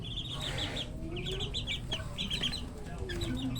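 Backyard chickens cluck and chirp repeatedly at close range in a steady farmyard chorus, with low background hum throughout and no clear speech.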